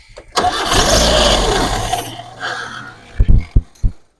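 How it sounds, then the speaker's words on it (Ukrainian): A Mazda 323 BA is cranked with its sensors disconnected: a loud, sustained starter whir for nearly two seconds, a brief fading tail, then several sharp knocks and clunks close by. "Зараз повернемо зажигання, попробуємо її завести."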